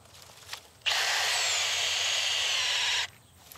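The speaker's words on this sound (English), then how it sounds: "So we're drilling a hole at 45 degrees and filling it with chemical." A power drill bores a hole at an angle into a wilding pine tree, a steady loud whine lasting about two seconds that starts and stops abruptly, with quiet outdoor background before and after.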